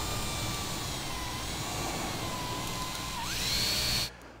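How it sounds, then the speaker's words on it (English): A power drill whines steadily at high speed drilling holes for a Gullwing fitting on a Troopy, its pitch rising sharply near the end as the bit bites through, then stops abruptly. "let's drill these holes"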